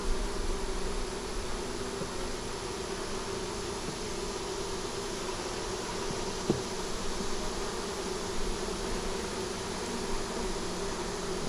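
Honeybees buzz steadily in an open hive while it is inspected in hot weather; a dense, continuous drone of many wings fills the space up close, with a small knock partway through and no talking.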